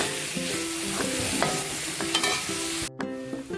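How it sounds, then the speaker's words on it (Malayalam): A spoon stirs quail egg roast masala frying in a pan, with repeated scraping strokes and clinks over a continuous sizzle, close and fairly loud, and a brief break near the end. "നമുക്ക് നല്ലതായിട്ട് യോജിപ്പിക്കാം"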